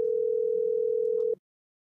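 A steady, unbroken telephone dial tone hums alone at moderate level, then cuts off abruptly near the end, leaving silence.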